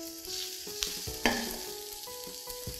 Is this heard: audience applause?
no